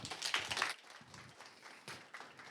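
An audience at a university startup tech event claps in a dense burst, loud at first and then thinning into scattered applause that swells briefly again near the end.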